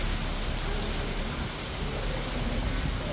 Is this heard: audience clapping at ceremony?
no